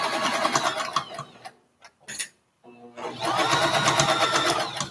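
A studio sewing machine stitches fabric for a boxy bag, running loud and close in rapid bursts, pausing briefly with a few clicks in the middle, then running again.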